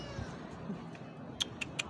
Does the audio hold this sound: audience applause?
no